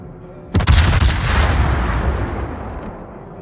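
A USS Bridgeport cruiser fires a naval gun salvo in World of Warships, with one sudden, heavy boom followed by a rumbling tail that slowly fades over a couple of seconds.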